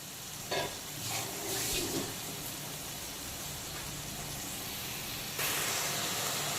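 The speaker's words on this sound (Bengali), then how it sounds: "এখন কিন্তু চিংড়িগুলোও হালকা ভাজা হয়ে গেছে, এর থেকে বেশি কিন্তু ভাজবো না।" Prawns fry lightly in a pan with a steady, soft sizzle and hiss. A few stirring scrapes and bumps come through, and the sizzle brightens again near the end.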